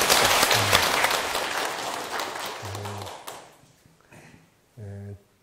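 Audience applause at a lecture hall, a dense burst of clapping that fades out after a few seconds, with someone speaking during and after it.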